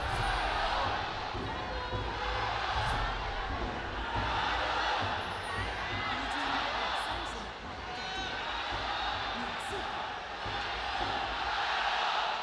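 Crowd in an esports arena at a League of Legends match, a 2023 Worlds regional qualifier, roaring and cheering continuously, loud and dense, under a caster's talk.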